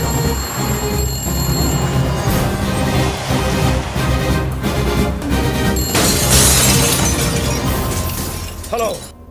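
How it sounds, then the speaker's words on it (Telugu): Glass shatters in a loud crash during an action climax in a film fight scene. A bright, sustained clatter of breaking shards follows, with ringing tones and a voice heard near the end. "అద్దాలు కూడా బద్దలు కొట్టుకొచ్చేస్తున్నావంటే"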